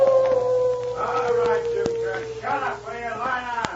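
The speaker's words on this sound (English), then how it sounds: "they heard the wolf dog howling ahead of them" A dog howls in a radio drama, a long wavering tone heard under a narrator's voice, with other dramatized sounds around it.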